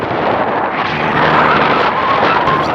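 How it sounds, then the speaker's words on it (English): Strong wind buffets the microphone outdoors at the Imperial Dam long-term visitor area near a reservoir, a loud continuous low roar that swells slightly midway and never lets up. "It's just really windy today."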